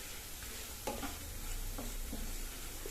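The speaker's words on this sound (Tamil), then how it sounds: "பிரண்டை நல்லா வதங்கி வந்துடுச்சு." Pirandai (adamant creeper) stir-fried in a pan while making pirandai rice, with a steady soft sizzle and a few light scraping strokes of a spatula, close and alone without talk.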